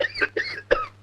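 A man in a Tamil comedy film scene coughs three times in quick succession, short harsh voiced bursts close to the microphone over a faint low hum.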